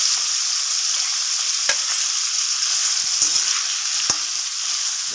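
Pepper and ginger stir-fried in a hot pan give a loud, steady sizzle, with a few sharp utensil scrapes and knocks against the pan scattered through.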